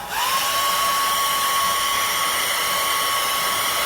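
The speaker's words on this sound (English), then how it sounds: "I'm going to take our hair dryer, so this is going to be a little noisy" A hair dryer whirs on and holds a loud, steady high-pitched whine with rushing air, close by and constant, with no voices.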